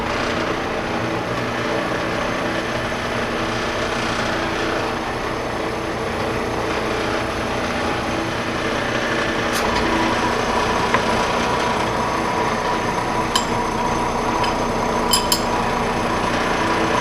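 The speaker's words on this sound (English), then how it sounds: "Drill it about 1 inch." A steady mechanical whir of a power drill running continuously with a 27/64 bit, drilling about 1 inch into an Alzmetall vise, with a few sharp metallic clicks and ticks near the end.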